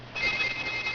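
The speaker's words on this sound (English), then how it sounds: "that's my phone" A phone rings with a steady, high electronic tone that pulses in a fast repeating pattern, fairly close and loud, with no talk over it.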